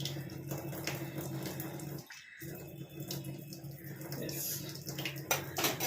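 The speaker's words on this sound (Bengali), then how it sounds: "একটু খুন্তিটা ধুয়ে একটু জল দিই" Water runs from a tap as a metal spatula is rinsed and water is poured in a home kitchen, a continuous close splashing with a brief pause and small clinks.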